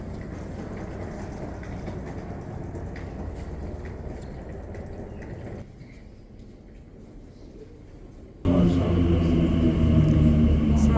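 A London Underground train arrives at Canary Wharf station: a steady rumbling roar that dips for a few seconds, then jumps to a louder, fuller rush near the end as the train pulls in.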